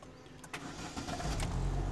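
A car engine cranks and catches after its battery is replaced, a brief starter whir followed by a rising, steady idle, close and fairly loud.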